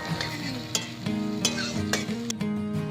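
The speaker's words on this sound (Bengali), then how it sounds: "আর কয়েকটি রসুনের কোয়া শিলনোড়ায় থেতো করে নিয়েছি দিয়ে দিলাম এবার নেড়ে নিয়ে সব কিছু খুব ভালো করে ভেজে নেবো" Sliced onion and stone-crushed garlic fry in a little oil in a pan, giving a steady close sizzle broken by stirring scrapes and light clinks.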